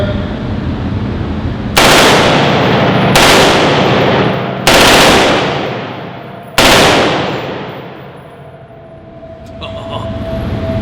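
Four loud bursts of rapid automatic gunfire crack out a second or two apart, each trailing into echo across an open range, close and harsh.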